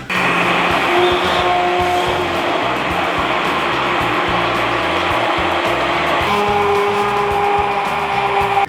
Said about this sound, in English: If you don't have one of these handheld immersion blenders, go buy one.